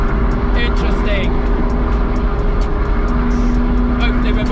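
A Ferrari driven fast with the top down on Cotswolds roads among a group of Ferraris, a loud continuous engine roar mixed with heavy wind buffeting, with a steady drone and no pauses.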